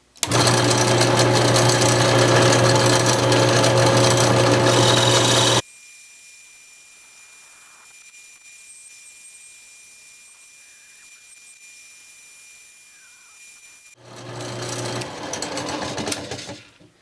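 A wood lathe runs loud and close while parting into a purpleheart pen blank, a dense mechanical roar for about five seconds, then near silence, then the machine spinning up again briefly.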